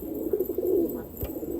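Pigeons in a breeding setup give a soft, low, rolling coo close by, over steady background hum, with a brief thump near the end.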